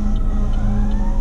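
An emergency vehicle siren, fire truck or ambulance, on a Nashville street: a loud, steady wail close by, sounding alone with traffic rumble underneath.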